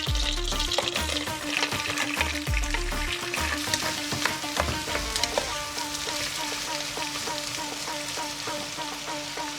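Onions frying in olive oil and a spoonful of butter in a pot, a loud, close crackling sizzle with a few sharp clanks of a utensil against the pot early on, then a steady hiss.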